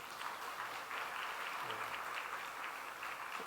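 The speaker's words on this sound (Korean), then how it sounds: "이분들은 두 번 더 크게 박수 한번 쳐주시면 감사하겠습니다." An audience at a church leadership training seminar applauds the writing team, a steady wash of many hands clapping that sounds distant and fairly quiet, with no talk over it.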